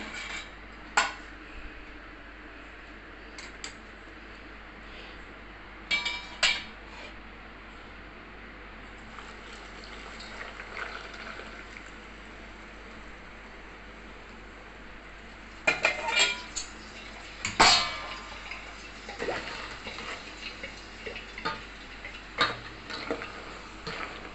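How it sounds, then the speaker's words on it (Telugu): Fried sweets are tossed with sugar syrup in a metal basin, heard as intermittent clinks and scrapes of a spoon against the bowl, sparse at first and then a denser run of knocks and taps. "దీన్ని కొంచెం ఇలా చల్లారేదాకా కలపాలండి"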